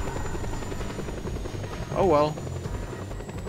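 Helicopter in the video game Just Cause 2, a constant rotor drone and engine hum under game noise, with someone briefly speaking over it.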